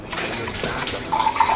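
Caipirinha poured from a container into a glass, a steady liquid splashing and trickling that grows a little louder partway through, heard alone without talk.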